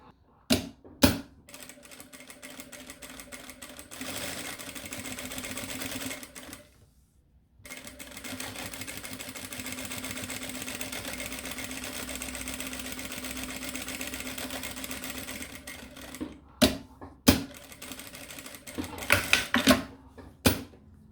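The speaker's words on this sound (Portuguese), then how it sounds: "eu vou deixar ele pra cima e vou passar aqui pesponto nas duas bordas" A sewing machine topstitches both edges of a twill bag strap in two long runs split by a short pause, close and steady, with clicks and handling knocks before and after.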